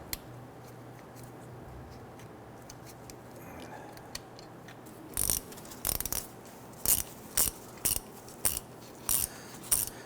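Bolts being started on a transfer case shift motor of a 2006-2010 Hummer H3, with faint low background at first, then a run of sharp, evenly spaced ratcheting clicks close by and no voices.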